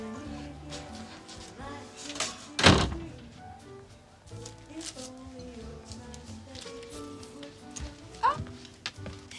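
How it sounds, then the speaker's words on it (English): A door is shut indoors on New Year's, a single heavy thunk standing out between voices and background sounds, with people talking around it. "Aren't you going to shut the door?"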